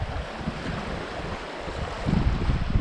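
Sea waves breaking on the Bristol Channel shore during a fishing trip, a steady, loud rush of surf with heavy wind buffeting the microphone and swelling toward the end.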